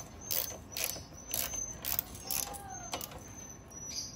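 Ratchet wrench clicking in short repeated bursts while tightening bolts on a Sniper 150 motorcycle, close and crisp, a few spaced runs of rapid clicks with no talk.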